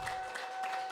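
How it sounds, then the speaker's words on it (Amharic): A church congregation claps together, a faint, brief burst of scattered applause with no voices over it. "አጨብጭቡ ለጌታ ለኢየሱስ"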